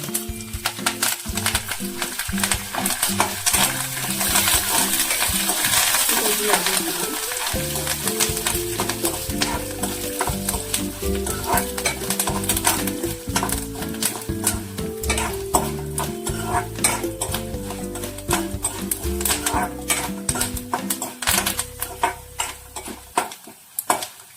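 Mustard seeds, cumin, dried chillies and curry leaves crackle and pop steadily in hot oil for Rayalaseema-style puffed-rice uggani, the dense spattering running throughout under loud tonal background music.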